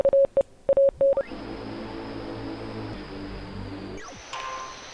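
Short tonal beeps of a Morse code signal in Oxenfree, a few clipped pulses in quick succession, followed by a steady wash of radio static with a sliding tuning sweep.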